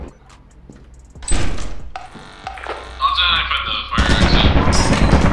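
Turret gunfire in the Lethal Company video game, rapid bursts that build into a loud, sustained volley near the end, with voices talking over it.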